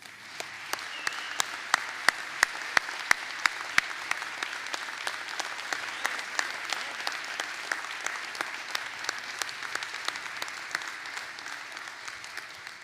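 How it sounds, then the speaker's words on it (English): A crowd at an honorary commander induction ceremony gives a steady round of applause, dense clapping that holds at an even level for about thirteen seconds with a few sharper individual claps standing out. "please welcome our new Honorary Commanders with one last round of applause for the whole group"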